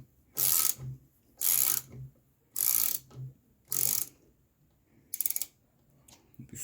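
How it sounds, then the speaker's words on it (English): A Loctite-secured screw being slowly unscrewed from a suspension valve on a Honda CRF300L during a K-Tech SSK upgrade; four evenly spaced ratcheting bursts followed by a shorter fifth, close and clear with no talk. "We slowly turn it out. There's some Loctite on the screw"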